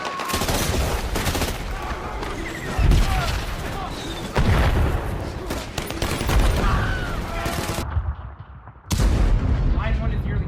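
Heavy gunfire and artillery thunder in a battle scene in a game, with dense, loud volleys and booms that carry on almost without pause, briefly dropping out before another burst.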